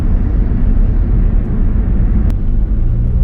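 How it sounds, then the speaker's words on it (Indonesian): Tire road noise inside a moving car on a highway, a loud steady low rumble and hum from the wheels with a faint whoosh, no voices over it. "Tapi anehnya kenapa suara ban masih masuk ya?"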